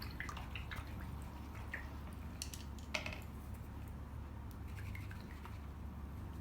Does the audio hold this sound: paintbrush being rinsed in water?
yes